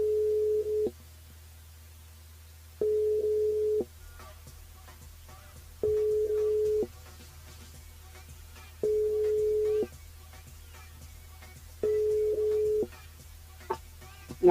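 Phone ringback heard while dialing a radio listener's mobile, five evenly spaced one-second tones separated by about two seconds of quiet, steady and clear over a low hum, with no talking.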